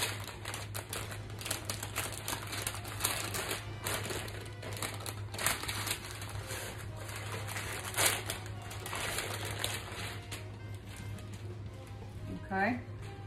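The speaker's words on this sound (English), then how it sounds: "I'm gonna use that parchment paper to help me roll it up." Parchment paper crinkles and crackles softly and close while it is rolled around a sausage for a smoked fatty, in quiet irregular rustles with a faint background hum.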